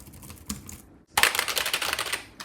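Rapid clacking keystrokes on a loud computer keyboard, a dense close burst of typing after a short soft lead-in and a brief pause.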